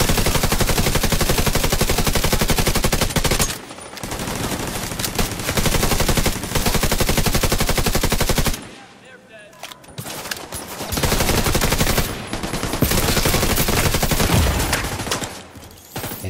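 Enemy gunfire in the video game Division 2 rattles in loud, sustained automatic bursts, broken by a few short lulls and a quieter stretch in the middle.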